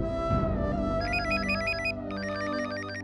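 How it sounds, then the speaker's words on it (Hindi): A melodic phone ringtone chirps in bursts, pausing briefly before starting again, loud and close over a busy background. "अभी इस वक्त किसका फोन है"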